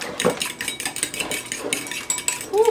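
Utensils clink and scrape against a bowl while ingredients for a no-bake shrimp parmesan are mixed, giving an irregular run of close, moderately loud clatters with a few sharper metallic taps.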